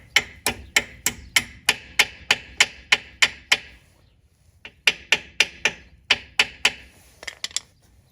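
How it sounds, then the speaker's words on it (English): Sharp metallic hammer taps drive a brake pad pin into the front brake of a 2015 Tesla Model S in a steady run, pause briefly, then resume in another quick series, close and loud with no talking. "you can hit it in with the hammer"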